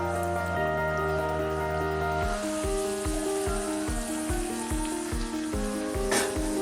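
Chicken vade dough dropped into hot oil sizzles and bubbles steadily up close, a dense frying crackle that continues without a break and with no one talking.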